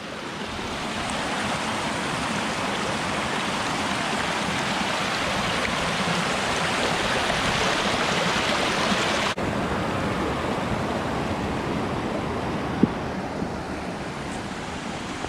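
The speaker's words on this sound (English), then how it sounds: "this is a huge creek" A large creek on the Turkey Path Trail in Pennsylvania's Grand Canyon rushes steadily and fairly loud, a dense wash of water over rocks with no pauses, and no one talks over it.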